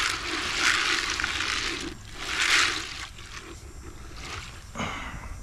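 Thick homemade wild hog bait stirred with an old piece of wood, giving wet, sloshing, scraping swirls in a few bursts with short pauses between, close and fairly loud with no talk.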